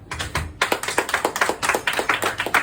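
A comedy club audience in Nice claps in reply to a question from the stage, producing a loose patter of sharp, close hand claps that come in uneven bursts for a few seconds.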